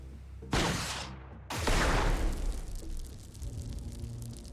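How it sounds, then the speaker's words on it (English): Gunfire and a rocket explosion in the video game Xenonauts: a sharp blast hits, then a second heavier explosion booms and rumbles on loudly for several seconds, decaying into a lingering roar. "That is literally 3 times Granola's taken the first shot and got an explosion"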